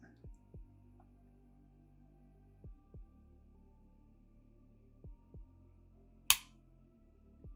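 Heckler & Koch USP Expert pistol trigger reset, heard as three pairs of sharp, close clicks spaced evenly apart, with one louder snap among them, over a low room hum.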